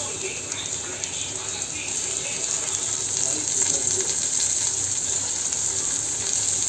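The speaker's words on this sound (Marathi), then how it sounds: "कांदा आपला ब्राऊन झालेला आहे. आता आपण टमॅटो त्याच्यात टाकूया. हा टमॅटो मी टाकते." Chopped tomato fries in a pan with browned onions, giving a steady, bright hiss that grows slightly louder and holds constant throughout.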